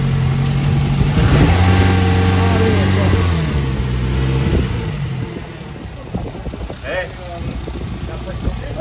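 A car engine that has just been brought back to running idles and revs unevenly, loud and close, with people talking over it.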